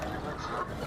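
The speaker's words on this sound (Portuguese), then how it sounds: "Nós vimos os patinhos, os filhotes de ganso, comendo aqui nas margens." Geese on a riverbank in Richmond, London, give a brief, continuous honking call, fairly close and over outdoor background noise.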